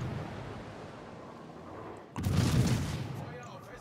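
Enemy ships fire broadside cannons in a naval video game; after a steady background rumble a loud, booming volley erupts and rolls on for over a second, then tapers off.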